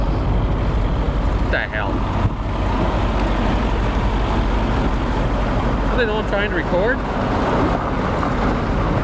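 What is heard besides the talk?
loud truck pulling in behind the speaker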